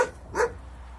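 A single short dog bark, somewhat distant, with a faint whine trailing after it, at a place once holding nearly 90 dogs in Azdavay, Kastamonu, Turkey.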